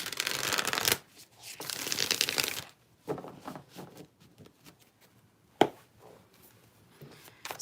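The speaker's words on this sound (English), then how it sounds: "Now, when I throw these cards" Tarot cards are riffled and shuffled in two loud bursts, followed by softer handling, scattered taps and a sharp slap as cards are thrown down, close and without talk.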